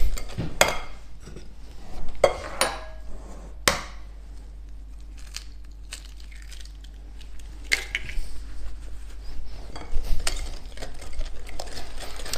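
A spatula works a second egg into batter for a quick microwave dessert, giving scattered knocks and scrapes against the bowl with brief sharp clicks between soft stirring, and no one speaking.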